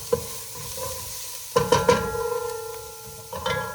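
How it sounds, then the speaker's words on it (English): Chopped onion and two medium bell peppers sauté in olive oil for homemade pasta sauce, a soft sizzle with several sharp stirring clinks and scrapes against the pan, close and fairly quiet. "onion and 2 medium bell peppers sauteing just in some olive oil"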